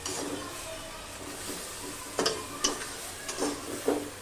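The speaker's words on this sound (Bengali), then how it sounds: "এবার আমি চিকেনটা রান্না করব।" Chicken cooks without oil in a pot over a high flame, sizzling under a soft hiss, with a few sharp scraping stirs near the end.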